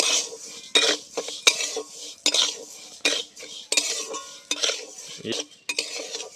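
A spoon scrapes and clinks against a kadai, stirring about 250 grams of sugar as it melts toward caramel, with repeated close metallic strokes at a steady rhythm.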